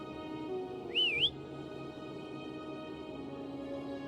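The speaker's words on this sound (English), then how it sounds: "Try whistling." A single whistled call rising and falling in a brief wavy phrase, used to summon Foam in the game Wuthering Waves, heard clearly over a steady low background hum.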